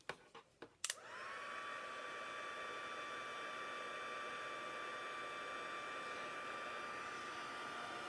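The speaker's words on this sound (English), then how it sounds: "And then I'm going to hit it with the heat gun." A heat gun blows steadily for heat embossing, starting after a few quick taps and clicks, then a constant close airy roar with a thin high whine holding level for several seconds.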